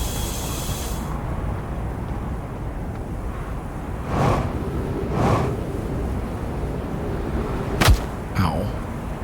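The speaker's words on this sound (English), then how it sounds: "There's another cannon" Cannon blasts in the space game Outer Wilds: a couple of soft booming thumps followed by a sharp crack and a swooshing release, set against a steady background hiss, with no talk over it.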